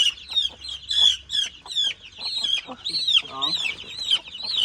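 Chickens being caught to raise at a rice field cluck and squawk in rapid, overlapping bursts, close and loud, with one harsher, drawn-out squawk partway through.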